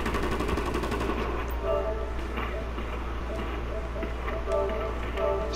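Gunfire in GTA 5, a steady stream of shots and bursts running under a constant dense game soundscape, with someone speaking over it.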